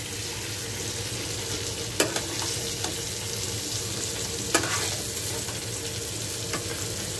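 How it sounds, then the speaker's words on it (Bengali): Paneer frying lightly in a pan gives a steady, close sizzle, with a couple of sharp clinks from stirring or turning the pieces. "এরকম হালকা ভাজাটাই বেশি ভালো লাগে। আস্তে তুলে নেবো আমি পনিরগুলো।"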